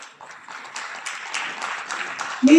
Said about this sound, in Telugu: మీ చప్పట్లే కళాకారులకు జరీ దుప్పట్లు